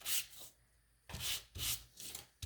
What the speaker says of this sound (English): You can just give it a light sand.